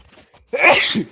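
A single loud, close sneeze bursts out after a moment of near quiet, sharp and breathy, during a relaxed football podcast conversation.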